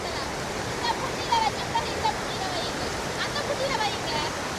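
Slow water flows and trickles over smooth, moss-slick rocks in a Sri Lankan stream, a steady broadband wash with faint splashes, with people talking quietly in the background.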